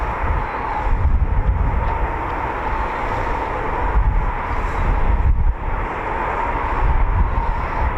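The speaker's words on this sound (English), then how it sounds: "More Typhoons, 2 Typhoons taxiing" Eurofighter Typhoon FGR4 fighter jets taxiing at RAF Coningsby, a loud sustained engine roar and whine that swells and eases in slow waves, with wind buffeting the microphone.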